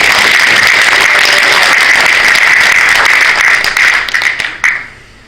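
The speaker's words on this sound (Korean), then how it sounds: "김진홍 목사님께 여러분들 큰 박수 한번 좀 보내주시죠." An audience at a Christian leaders' New Year prayer meeting gives a pastor a big round of applause, loud and close, holding steady before thinning into scattered claps and fading out.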